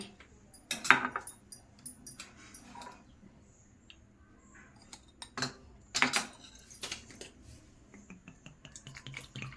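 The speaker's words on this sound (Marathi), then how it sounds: "एका ग्लासमध्ये आपण एक चमचा टाकूया" A spoonful of lemon syrup premix goes into a glass, giving a few sharp, quiet clinks of the spoon against the glass, separated by near-silent gaps.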